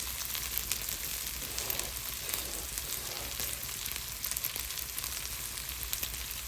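Potato sizzling in a frying pan, a dense, continuous crackle and spatter close by, steady for the whole stretch with no talking.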